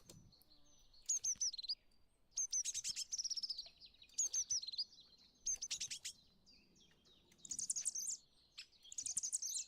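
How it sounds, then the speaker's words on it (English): Bird calls from the Wingspan board video game: bright, high chirps and trills in several close, loud bursts separated by short pauses, with no talk. "I'm doing this so I can hear what the birds sound like."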